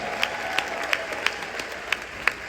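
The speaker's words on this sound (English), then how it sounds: "Give them a round of applause." An audience at a state-of-the-city address applauds a high school choir, a steady wash of clapping with a few sharp, louder claps standing out at intervals.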